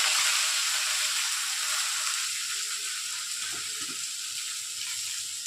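Drumstick (moringa) leaves sizzle and crackle steadily in hot oil, a loud continuous frying hiss with a few soft clinks partway through.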